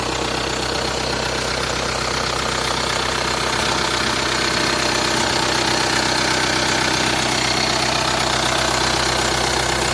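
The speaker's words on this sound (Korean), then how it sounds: "엔진 사운드" A Hyundai Tucson 4WD SUV engine idling steadily and loudly nearby, a continuous low rumble with a faint rhythmic knock and no voices.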